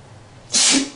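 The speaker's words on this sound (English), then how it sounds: "I'm about to sneeze" A single sharp sneeze bursts out after a brief quiet moment, loud and close.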